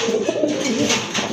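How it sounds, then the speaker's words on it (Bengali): A pair of big black-necked pigeons coos close by, a steady low warbling call repeated without pause and heard alone. "এক জোড়া বিগ সাইজের টপ ক্লাস এক জোড়া কালো গলা কবুতর"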